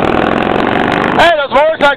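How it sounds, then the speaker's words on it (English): Loud passing motorcycles roar and drone steadily, then a person starts talking over the fading engine noise. "those motorcycles are louder than I am"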